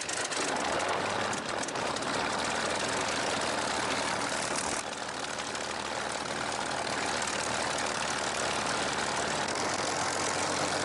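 A Rolls-Royce Merlin engine on a Spitfire roars at close range, a loud, unbroken drone that dips briefly midway and then holds steady.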